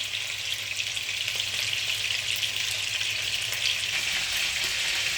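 Meat and spinach sauce fries in hot oil with a steady, close, loud sizzle that runs continuously, with faint stirring and no talk.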